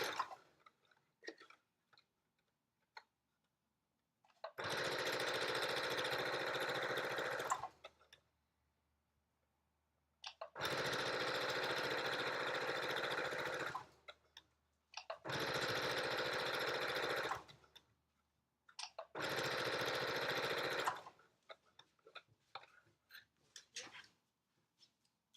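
Sewing machine stitching a Yup'ik-style make-up bag close to the fabric edge, running in four steady bursts of two to three seconds each, separated by quiet pauses with small handling clicks and rustles.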